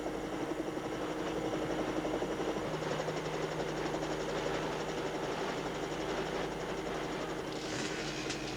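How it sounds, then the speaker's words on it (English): Helicopters whir into action at a motocross stunt event, their rotating blades kicking up dirt and wind. A loud, steady, close rotor chop with a rapid rhythmic beat and a dense engine roar runs unbroken throughout, with no talking. "The choppers are whirring into action, their rotating blades kicking up dirt and wind."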